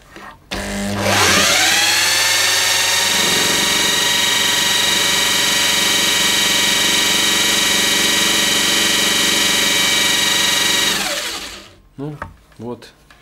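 A 1.5 kW induction motor converted into a permanent-magnet generator, wired in star, spins up to about 1300 rpm with a loud rising whine that settles into a steady, harmonic-rich hum, then winds down near the end.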